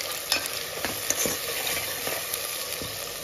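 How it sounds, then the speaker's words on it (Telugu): Homemade masala spice paste sizzling and frying in a pan, stirred with scattered scraping knocks over a steady bright hiss, close and moderately loud with no talking. "చూడండి ఫ్రై అవుతా ఉంది కదా"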